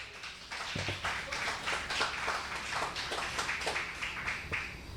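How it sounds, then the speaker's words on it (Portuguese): Church congregation clapping hands in a steady, fairly even rhythm that carries on throughout, with the claps sounding somewhat distant and the room filled with their wash. "Vamos aplaudir a Jesus, irmãos?"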